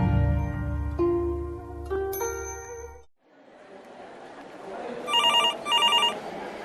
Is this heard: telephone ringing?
yes